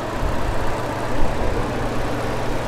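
A 2016 Ford F-150 King Ranch's 3.5-liter twin-turbo EcoBoost V6 idles steadily nearby, a smooth, continuous low rumble with no other sounds.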